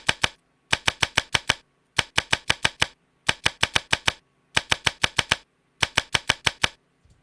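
Cards dealt face down one after another in a poker video game, crisp clicking snaps in quick runs of about six or seven, grouped in bursts separated by short pauses, close and clear with no talking.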